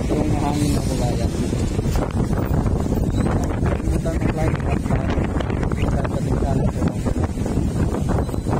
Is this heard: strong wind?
yes